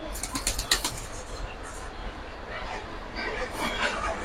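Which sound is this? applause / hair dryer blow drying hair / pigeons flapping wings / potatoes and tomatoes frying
pigeons flapping wings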